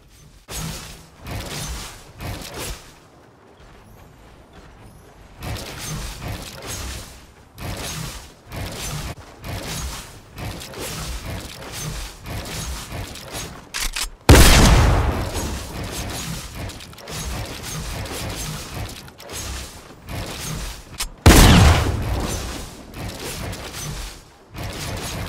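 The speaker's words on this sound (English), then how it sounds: "you also could warm up your shotgun aim, as you can see as I hit the target." Fortnite shotgun shots hitting practice targets during a competitive warm-up, a busy run of mechanical clacks and game effects with two sharp, loud blasts standing out partway through.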